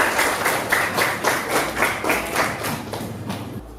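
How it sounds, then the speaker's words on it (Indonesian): Classroom applause for two sixth-grade pupils, Putri and Paris, during a civics lesson: a brief round of steady, dense clapping from many children close by, with regular hand-slap pulses over its length before it stops abruptly. "Beri tepuk tangan untuk Putri dan Paris"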